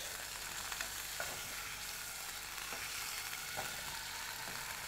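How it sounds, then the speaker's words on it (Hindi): Paneer fries in hot oil in a pan for Lucknowi pulao, a continuous soft crackling sizzle with occasional faint clicks of stirring, steady and fairly quiet throughout. "ये पनीर बहुत अच्छे से फ्राई हो रहा है"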